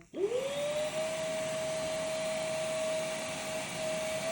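A Saeshin MediPro Touch podiatry machine switches on and its built-in vacuum settles into a steady, close whirring hum with a rising whine at the start, unbroken by talk.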